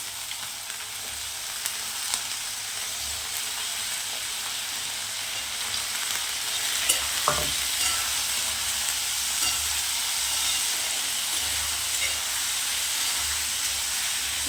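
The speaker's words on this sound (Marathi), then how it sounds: "चांगलं परतून घ्यायचं." Potatoes sautéing in a pan for a Marathi bhogi vegetable dish, a steady close sizzle and hiss with scraping stirs, no talk.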